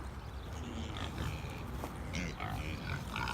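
Pigs in a barn grunt and squeal in a dense, continuous mix of several animals, fairly loud and close throughout with no clear pauses.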